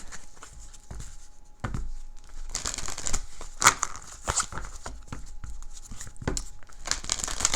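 Oracle cards are shuffled with soft riffling and crinkling, a steady rustle of paper close up, with no talking.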